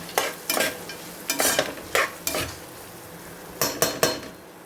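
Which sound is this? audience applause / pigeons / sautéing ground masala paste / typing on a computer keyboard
sautéing ground masala paste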